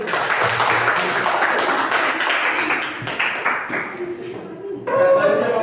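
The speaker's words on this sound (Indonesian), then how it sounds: "Tepuk tangan untuk Mas" Audience applause at an Indonesian school or teacher-training presentation, a dense patter of claps that gradually thins and fades, then swells briefly again near the end, heard alone without talk.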